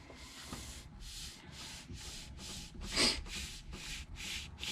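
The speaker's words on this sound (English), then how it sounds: "I got some Axe abrasive paste that'll help smooth that out too." Turned purple resin and sweet gum wood vase being polished with Axe abrasive paste, a steady repeating rub and hiss in even strokes, close and moderately loud with one harsher pass midway.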